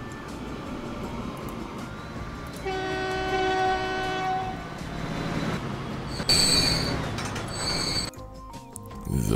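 Freight train with construction-material wagons in the railway-building game Transport Fever, rumbling steadily with drawn-out squealing wheels and horn-like tones, growing louder midway before a brief hiss and a quieter tail.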